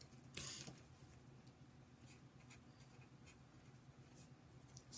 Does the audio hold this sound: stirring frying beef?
no